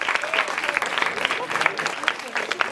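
Audience applause at the senior-category final of an international debate competition, dense clapping throughout with some voices mixed in.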